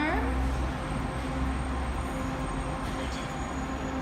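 Expo Line SkyTrain heard from the King George Station platform in Vancouver, a steady loud rumble of the train with a faint wheel squeal near the start.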